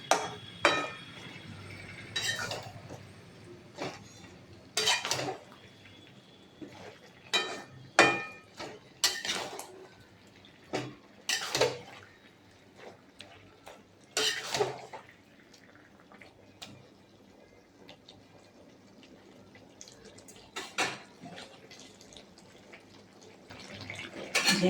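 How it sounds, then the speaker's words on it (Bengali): Ridge gourd cooking in its own released juices in a pan, with the lid lifted off and a spoon stirring: intermittent sharp clinks and scrapes of metal on the pan, spaced irregularly over a quiet background. "ঝিঙেটা ঢাকনা খুলে একটু নাড়াচাড়া করে দেবো"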